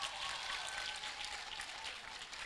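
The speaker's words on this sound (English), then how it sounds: "I want you to give Miss Lola Wright a round of applause." Dense, continuous audience applause at a graduation ceremony, honouring a sign language interpreter; a steady wash of many hands clapping at once at moderate volume, with no talk.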